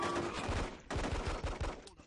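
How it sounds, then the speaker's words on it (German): Rapid bursts of gunfire in the Hitman video game, jungle setting, firing as dense, overlapping volleys with a quick clattering rhythm, loud and continuous with a short break near the middle. "Der hat seinen Freund abgeschossen."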